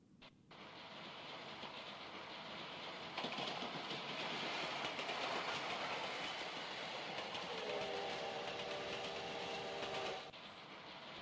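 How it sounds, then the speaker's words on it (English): Steam locomotive running on a railway in Japan, a steady rushing roar with rhythmic chugging and clatter held for several seconds, a brief whistle-like tone toward the end, heard at a distance and faint, with no talk. "In Japan, the steam locomotive like this was widely used until 1960s."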